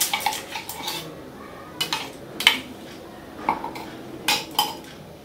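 Egg being mixed with salt and chili in a bowl, a utensil repeatedly clinking and scraping against the bowl in uneven bursts, close and clear with no talk.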